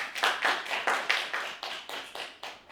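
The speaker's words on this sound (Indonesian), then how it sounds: "Tepuk tangan buat Zoe." Stand-up comedy audience clapping, a sparse handful of hands giving about a dozen distinct, evenly paced claps at close range, with no talking.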